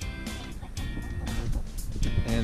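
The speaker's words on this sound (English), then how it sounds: "Hanging out here with my chickens," Backyard chickens cluck softly and steadily near a coop on a mild winter day, a low continuous flock murmur with scattered brief calls and no talk over it.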